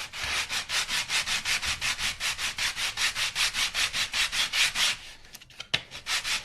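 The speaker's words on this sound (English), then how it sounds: "I can just take this piece in here like this, and then just sand it down in here so that it has that curve." A wooden guitar brace is sanded to a curve in a radius dish, giving rapid rhythmic back-and-forth rasping strokes, about four per second, close and steady, then a brief pause with a knock before sanding resumes.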